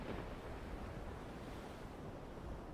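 Steady sea waves wash continuously with a broad, even roar, constant in level throughout and with no voices.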